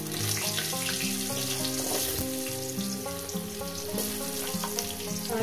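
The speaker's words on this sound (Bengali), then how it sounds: "এবারে এটাকে আমি 5 মিনিট ধরে আলুটাকে ভেজে নেব" Potatoes frying in hot oil with dried red chillies and five-spice, a steady close sizzle that runs throughout alone, with no talk.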